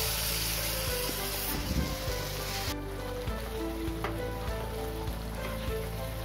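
Grated tomato goes into a hot pan for arbi sabzi, with a steady frying sizzle and crackle over a constant background hum. A brief clatter comes partway through, and no one speaks.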